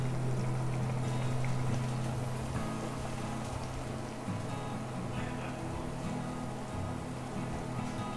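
Pigeon curry bubbling at a steady boil in a pot, a continuous broad hiss and simmer with a low hum running underneath the whole time.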